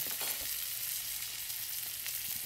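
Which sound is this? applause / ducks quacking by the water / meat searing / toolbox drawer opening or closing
meat searing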